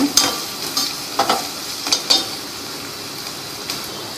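Garlic sautés in hot oil for a fish curry, a steady close sizzle broken by several sharp scrapes and clinks of a stirring spoon against the pan.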